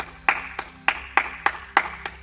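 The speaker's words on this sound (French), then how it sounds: "on peut s'applaudir super fort" Seven sharp claps in a steady, fairly quick rhythm, close by and moderately loud, with a faint room hum between them.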